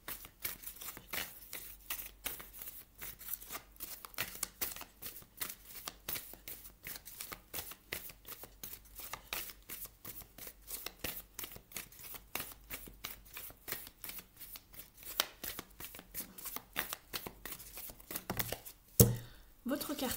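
Oracle cards are shuffled by hand in a long run of quick, crisp riffling flicks and slaps that continue almost without a break and sound close and fairly quiet, ending with a brief louder handling noise.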